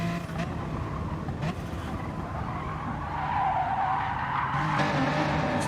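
A race car in a racing video game skids and drifts wide through a corner. The tyres squeal and scrub over a continuous engine drone, steady and fairly loud throughout, with no talk.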